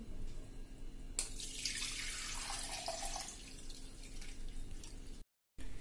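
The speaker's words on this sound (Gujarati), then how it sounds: "હવે એને આપણે પાણી એકદમ સાવ નિતારી લેશું" Water drained from soaked urad dal for medu vada batter, a quiet steady trickle and pour of water from a vessel with light dripping, faint and close, no talking.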